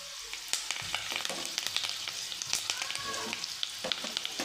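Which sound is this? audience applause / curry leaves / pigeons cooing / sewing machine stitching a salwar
curry leaves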